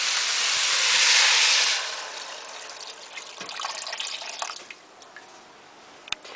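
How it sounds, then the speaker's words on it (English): Water poured into a cooking pot for Hungarian bean soup with sausages, a broad steady rush that swells loud early, then thins into lighter splashing and trickling, with a couple of sharp clinks near the end. "Now I add a liquid 6 cup of water."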